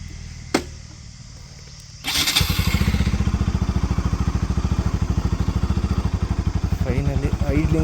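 A Bajaj Pulsar NS200 motorcycle modified from stunt to road setup is started after a click and settles into a loud, close, rapid single-cylinder idle that thrums steadily, with a short voice late in the clip.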